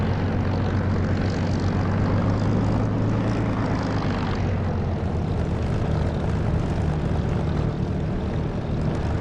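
An aircraft in the DCS flight simulator game taxis toward the centre runway, its propeller engine droning steadily and loudly throughout, with a slight shift in tone midway.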